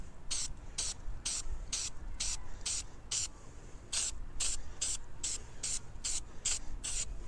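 Filter oil is sprayed onto a K&N air filter for a VTX 1800 motorcycle in short, sharp hissing bursts. The bursts come in quick rhythmic groups, close and fairly quiet, with no talking.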